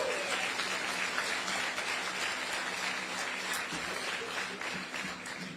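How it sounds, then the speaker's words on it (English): An outdoor crowd at a ferry terminal groundbreaking in Carteret applauds the New Jersey governor, with dense, steady clapping that holds for several seconds before tapering slightly. "Give the governor a round of applause, if you will."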